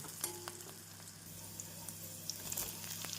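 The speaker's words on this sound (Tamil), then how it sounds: "நாம் கத்திரிக்காய் சேர்த்து நன்றாக வெங்காயத்துடன் வதக்க வேண்டும்" Quiet, steady sizzling from a pan of brinjal sautéing with onion, with soft crackles and an occasional stirring scrape.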